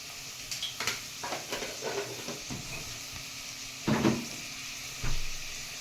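Half a spoon of ginger garlic paste sizzling in a frying pan for masoor dal tadka, a close soft hiss punctuated by spoon stirs and scrapes, with two louder splashes near the end.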